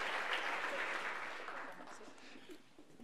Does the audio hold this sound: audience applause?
yes